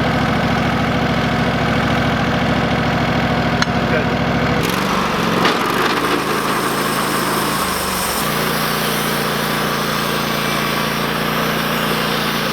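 A small gasoline engine, likely a chainsaw, idles steadily during timber frame house work, then shifts pitch and load mid-way as it cuts through a big chunk of wood before settling back to a steady run; no clear talk.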